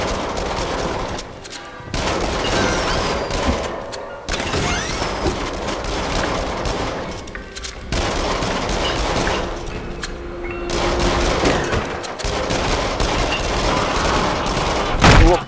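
Repeated gunfire from a shooter in the VR horror rail game Until Dawn: Rush of Blood, with dense bursts running nearly throughout, loud and close, a few brief lulls between volleys, no voices.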